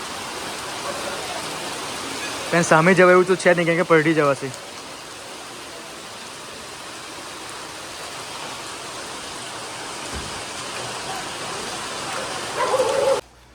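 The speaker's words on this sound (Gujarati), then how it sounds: "બાકી વરસાદ એટલો બધો છે" Heavy rain pours steadily as a broad, even hiss throughout, with a brief burst of talk near the start and a faint clatter toward the end.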